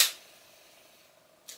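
A Voigtlander camera from the GDR releasing its clockwork slow shutter, a sharp click at the start, a faint steady mechanical whir running for over a second, then a second click closing it, close and quiet.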